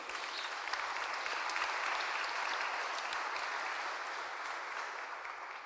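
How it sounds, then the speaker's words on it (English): An audience at a digital policy conference applauds a panel, a dense, steady wash of clapping with scattered sharper claps, gradually tapering near the end. "Everyone, please give them a good, big round of applause"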